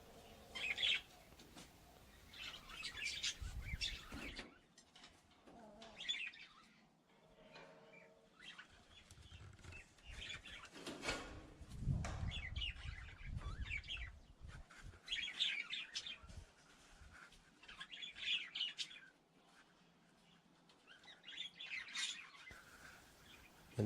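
Birds chirp and tweet in a nearby cage beside an automatic chicken coop, with repeated bright calls and bursts of wing flapping running throughout at moderate volume, without talk.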